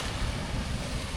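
Sea waves washing on a shore make a steady, loud broadband wash of surf with wind rumble, continuous and without pauses across the brief moment, no voices present.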